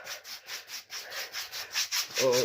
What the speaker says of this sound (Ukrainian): І зараз за допомогою щіточки, вона в мене трішки волога, провожу обезпилювання.